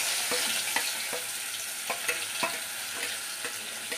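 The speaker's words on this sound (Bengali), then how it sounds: "এবারে হচ্ছে মা পেঁয়াজ ছাড়বে" Onions hit hot oil in a pan with a steady, close sizzle, while faint clicks of a spoon or utensil recur every half second or so over the frying hiss.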